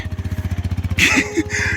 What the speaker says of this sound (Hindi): फाइनली बाइक स्टार्ट हो गई है